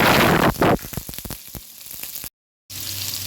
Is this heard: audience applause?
no